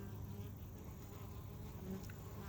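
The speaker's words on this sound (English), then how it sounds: "It's a fairly big bee." Fairly big bee buzzing steadily on the ground while it recovers, a continuous low drone that stays close and faint against light outdoor background.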